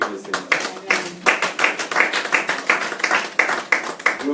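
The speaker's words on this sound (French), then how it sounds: "On peut applaudir le Seigneur." A church congregation claps in praise during a worship service, a fairly small group producing quick, uneven bursts of hand claps in a loose rhythm, close and clear.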